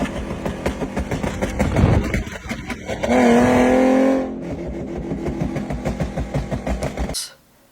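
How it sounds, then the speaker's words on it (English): A built V6 Mustang with an exhaust burble tune revs loudly, its engine rising in a strained howl, then crackling and popping in a rapid stuttering burble before cutting off abruptly. "But I had a burble tune from Dynolist."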